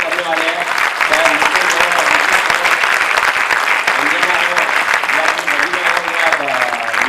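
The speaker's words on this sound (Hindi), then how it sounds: "मैं चाहता हूँ कि जोरदार तालियों से" Loud, sustained applause from an audience fills the whole stretch, dense and even clapping with no pauses.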